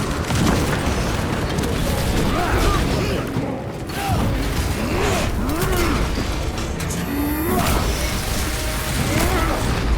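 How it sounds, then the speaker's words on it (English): A crack grenade goes off in Warhammer 40,000 Space Marine 2 amid a dense, continuous battle roar, with rumbling booms and crackling debris and short voiced barks cutting through the din. "Using crack grenade!"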